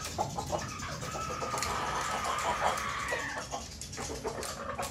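A bull stag gamecock in its cage gives a crowing and clucking call that rises and falls over several seconds, close and fairly loud against a background of farmyard noise.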